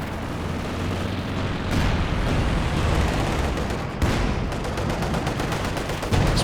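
Dense artillery barrage in the Company of Heroes 2 strategy game, a 2v2 match: continuous rumbling explosions and rapid gunfire thudding loudly throughout, with a sharp burst near the middle.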